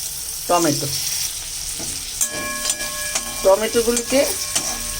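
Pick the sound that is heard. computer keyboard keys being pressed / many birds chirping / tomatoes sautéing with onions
tomatoes sautéing with onions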